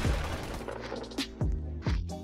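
Gunfire in the video game Da Hood: a dense, loud stream of shots with several sharp bursts standing out, heavy game audio throughout and no talk.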